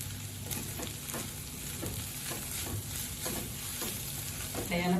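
Spicy dry cauliflower sabzi being mixed in a pan, with a dense crackling sizzle and repeated scraping strokes of a spatula at a steady rhythm, close and fairly loud.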